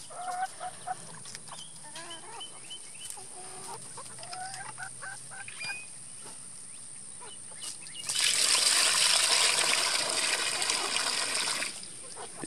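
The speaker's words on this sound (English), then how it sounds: "Chickens are doing great in the chicken tractor." Several chickens in a chicken tractor in an orchard cluck and chatter close by outdoors, then a louder rushing, splashing noise takes over for a few seconds before fading.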